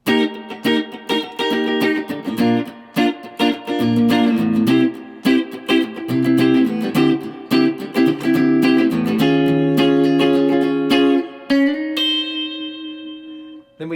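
A guitar plays the bridge of a song, a string of rhythmic strummed chords, close and loud, ending on a single ringing chord left to decay.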